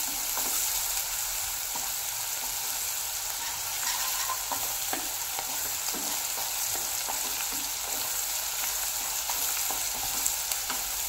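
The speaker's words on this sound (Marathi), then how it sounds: "पाहू शकता किती फास्ट कांदा फ्राय होत आहे" Sliced onion with salt sizzles and fries in a pan over high flame, a steady dense crackle with scattered sharp pops throughout, close and even in level, with no talking.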